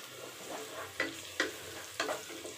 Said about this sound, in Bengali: রসুন কুচিটা যে দিয়ে দিয়েছি রসুন কুচিটা, এখন আমি নাড়াচাড়া করে দিব